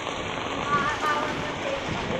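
Heavy typhoon rain in Teresa, Rizal pours steadily in a dense, continuous hiss, with a few faint voices murmuring underneath.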